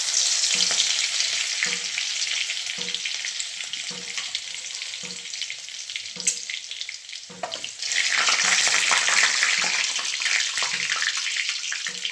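Cumin seeds and garlic hit hot oil in a pan, setting off a loud, dense, continuous sizzle punctuated by regular thuds of stirring. The frying swells even louder near the end.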